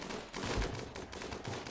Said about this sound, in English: the turrets are making good work at the raiders